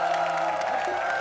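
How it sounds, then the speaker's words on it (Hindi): A studio audience at a comedy show breaks into steady, full applause mixed with some cheering, with a faint voice beneath it. "जोरदार ताली।"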